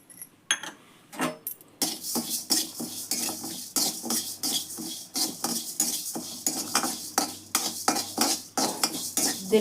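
Urad dal clatters and scrapes in a pan as a metal spoon stirs it during dry roasting for homemade garam masala, a steady run of quick close clinks and rasps after a few loose taps at the start.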